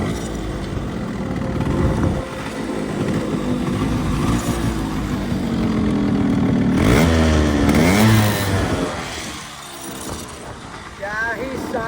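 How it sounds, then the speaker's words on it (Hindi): A Yamaha RX100 motorcycle is kick-started and runs close by, its engine clattering and revving in bursts with a rising and falling whine. Someone talks over the sound throughout. "अभी एक किक में आप लोगों को स्टार्ट करके सुनाता हूँ बाइक"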